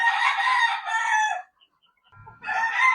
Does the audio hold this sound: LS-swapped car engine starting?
no